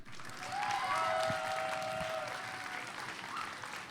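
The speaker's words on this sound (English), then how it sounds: "So can we get a huge round of applause for Priest," A school crowd applauds student spoken-word poets, a steady broad wash of clapping that swells early, then thins slightly while continuing, with a faint tonal whine across the middle.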